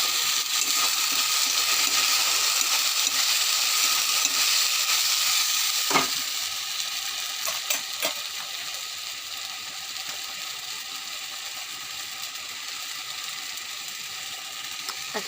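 A paste of tomato, garlic and ginger fries in a pan, giving a steady, moderate sizzle throughout with a few sharp clicks and stirring scrapes, and no talking.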